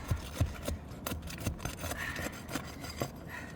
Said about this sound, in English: we gotta unseal the shingles, right, so we can look at the fasteners